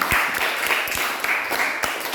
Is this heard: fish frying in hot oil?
no